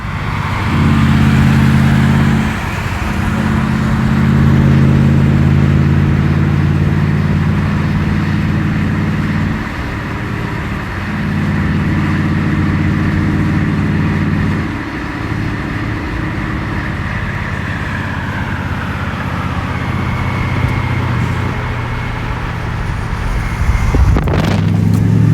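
A straight-piped Dodge Durango rumbles steadily from inside the cabin while driving in traffic, its deep exhaust drone loud and continuous, with a few dips as the throttle eases and a brief clatter near the end.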